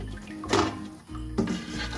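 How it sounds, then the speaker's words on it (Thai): Water is poured over bean sprouts in a growing container, giving two short splashing pours close by, each lasting about half a second. "เดี๋ยวรดน้ำซะหน่อย เดี๋ยวรดน้ำ"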